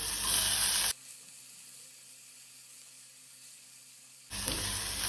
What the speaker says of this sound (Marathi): कांदो बरो तळसून घेवपाक जाय।